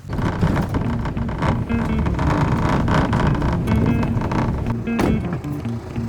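Wind gusts outdoors at a desert lodge in Namibia, buffeting the microphone with a loud, steady rumble that swells and eases over several seconds.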